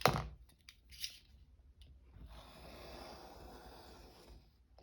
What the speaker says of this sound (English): Let's just cut that off then.